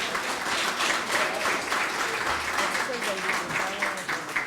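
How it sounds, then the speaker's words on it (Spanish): An audience at a legislative book presentation claps together in a dense, steady wash of applause, with voices mixed in underneath. "Un fuerte aplauso para los compañeros y compañeras."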